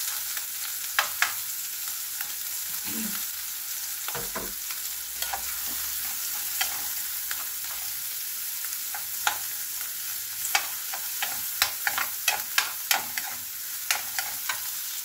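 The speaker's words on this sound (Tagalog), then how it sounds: "dito na rin tayo mag-igisa ng ating bawang at sibuyas" Garlic and onion sauté in a pan with a continuous bright sizzle, punctuated by repeated sharp clicks and scrapes of a utensil stirring against the pan, growing more frequent toward the end.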